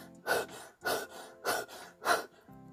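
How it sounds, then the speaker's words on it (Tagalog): A voice demonstrates interrupted, gasping breathing: four sharp, evenly spaced intakes of breath, close and clear, each cut off abruptly with short pauses between. "Napuputol yung hininga."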